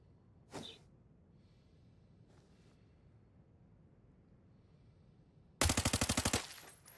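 Call of Duty gunfire: a short automatic burst of rapid, evenly spaced shots rings out loud and close near the end, after a single sharp shot early on and a quiet stretch of faint background noise.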